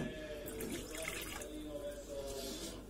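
Tap water running steadily into a mixing bowl for homemade piadina dough in a home kitchen, a continuous close splashing flow with no talk over it.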